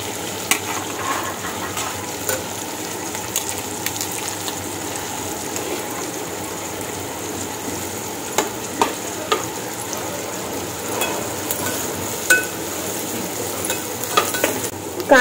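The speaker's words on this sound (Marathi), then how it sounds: "बटर छान वितळलं आहे, आपण त्याच्यामध्ये कांदा टाकणार आहोत।" Two large onions frying in melted butter for pav bhaji give a steady sizzle with scattered spatula scrapes and stirring clicks, close and moderately loud, with no talking.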